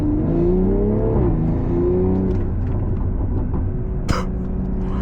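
A tuned 500 hp Stage 2 BMW M340i engine revs loudly from inside the car, its pitch climbing and holding near redline, with a sharp click or shift near the end.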